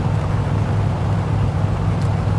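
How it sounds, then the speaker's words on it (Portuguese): A steady, droning car engine hum held at constant pitch, loud and close, with no talking, from the video game My Summer Car. "Gosto de ouvir o barulho do motor desse carro."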